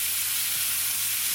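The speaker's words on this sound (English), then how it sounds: "we're gonna add our meat to brown" Beef for stew browns in a pot with a brief, dense, steady sizzle and no pauses.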